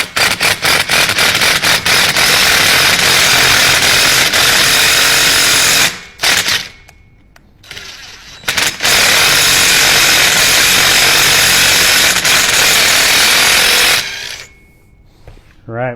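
A power tool taps threads into a part from a 1974 Harley-Davidson Shovelhead engine. Loud, close whirring runs in long bursts, with short pauses around the middle and a stop near the end.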